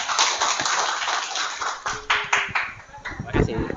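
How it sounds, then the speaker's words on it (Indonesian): Classroom applause for a student group during a teaching practice session: a burst of clapping and tapping that carries steadily for a few seconds, with voices talking over it. "mari kita beri aplaus untuk kelompok 2"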